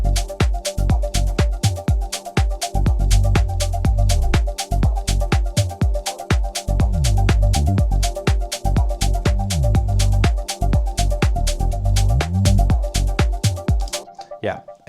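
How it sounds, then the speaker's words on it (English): A fast electronic beat with dense percussive hits and a steady tonal layer, low booming tom notes pitching downward in a repeating groove, loud and continuous. "I've added a low tom groove, which really complements the bass"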